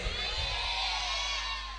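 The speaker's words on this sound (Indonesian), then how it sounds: "tepuk tangan untuk Ibu Linmas kita" An audience at an Islamic sermon event (ceramah) bursts into cheering and applause, a dense sustained wash of crowd noise with shouts mixed in, loud and fairly close.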